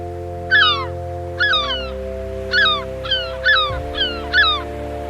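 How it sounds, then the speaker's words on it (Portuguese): A flock of gulls calls on a Patagonian beach, giving about seven loud, clear squawking cries in an uneven series over a low, steady droning background. "As gaivotas patrulham as praias em bandos barulhentos"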